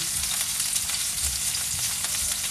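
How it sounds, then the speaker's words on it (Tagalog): Onions sizzle and fry steadily in a hot pan for a beef stir-fry with mixed vegetables, a dense continuous crackle with low stirring rumbles underneath, close and fairly loud, no talking. "Lagay na natin yung ating sibuyas."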